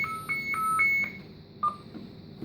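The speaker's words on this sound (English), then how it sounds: "the beacon is now going to activate. And you'll hear it beep" A Navigator lifejacket GPS beacon chirps on activation: a run of four quick, bright electronic beeps, a pause, then one more beep, close and fairly quiet over faint background hiss.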